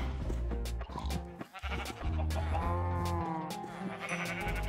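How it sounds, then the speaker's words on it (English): Sheep bleating in Minecraft, a few short game bleats from a baby sheep and adults over steady background music, fairly close and clear. "And there's a baby sheep."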